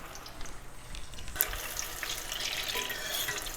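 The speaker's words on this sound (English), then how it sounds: "I'm going to deep fry it in medium heat until the cauliflower turns nice golden brown on all the sides" Cauliflower pieces for gobi 65 deep frying in hot oil over medium heat, a soft bubbling sizzle that swells into a steady, brighter hiss partway through, close by with no talking.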